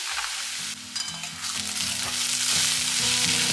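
Onions sizzle steadily in hot oil with julienned ginger and chopped green chilli just added, a dense continuous frying hiss with occasional spatters and clinks, close and fairly loud, no talk.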